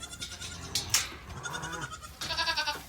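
Farm goats bleat close by in a pen during morning chores, a few quavering calls overlapping with shuffling and rustling noises.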